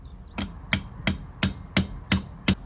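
A hammer strikes a roll pin into a Ford distributor gear seven times in an even, steady rhythm, each blow a sharp metallic tap, close and clear, with no voices.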